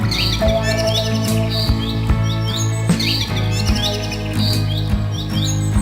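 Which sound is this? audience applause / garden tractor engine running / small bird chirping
small bird chirping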